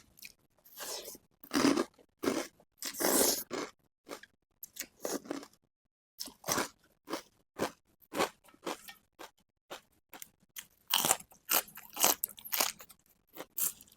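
Crispy charcoal-fried pork is bitten and chewed close up, loud crunchy bursts in a series of separate chewing episodes broken by short silences.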